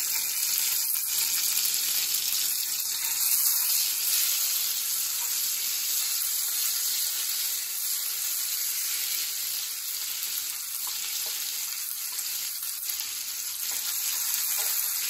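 Thai red curry paste frying in a pan for a chicken red curry, a steady loud sizzle with stirring running throughout, no voices.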